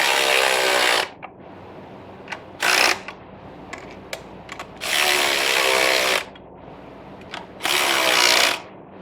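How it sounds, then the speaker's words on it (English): A wrench tightens engine intake bolts on an LS swap, with several loud, close bursts of rapid ratcheting clicks separated by quieter gaps holding scattered metallic ticks and clinks. "I'm gonna use a calibrated wrench because I left my torque wrench at home"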